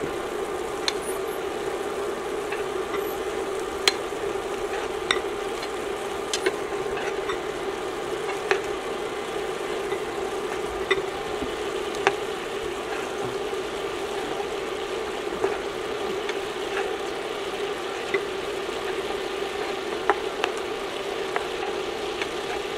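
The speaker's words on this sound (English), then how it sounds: "now you want to cook the shrimp for another 3 minutes on the opposite side" Shrimp frying in a skillet, giving a steady soft sizzle with scattered small pops and crackles throughout, continuous and fairly close, no voices present.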